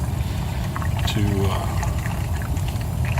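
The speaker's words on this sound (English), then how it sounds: "I put 10 gallons or so in the fresh water tank" Water pours steadily into a travel trailer's fresh water tank, a continuous rushing flow filling about ten gallons; a voice briefly speaks over it.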